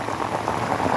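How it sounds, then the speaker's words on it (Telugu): Hail and rain fall steadily on a tomato farm during unseasonal stormy weather, giving a dense, even patter of drops and small stones that carries on without pause through the whole short moment, with no voices. "ఈరోజు మా ఊర్లో ఒడుగులు వర్షం పడుతుంది."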